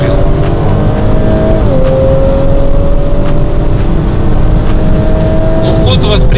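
A BMW X3 M40i and an Audi S4 accelerate hard side by side in a drag race, their engines roaring loudly with rising revs and gear-change dips, and a faint squeal near the end.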